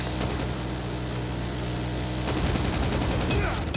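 Sustained automatic gunfire in a Call of Duty match, a dense continuous rattle of shots with engine-like rumble beneath, loud and steady throughout with a heavier burst toward the end.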